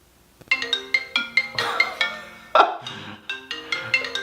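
A phone rings from a holder mounted on a rowing machine monitor, playing a bright melodic ringtone with a bouncy rhythm of plucked, bell-like notes, loud and close, with no one talking.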